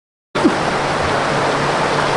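Curug Larangan waterfall in Sukabumi roars as a steady, loud, broadband rush of falling water. It begins abruptly after a brief silence and continues unbroken.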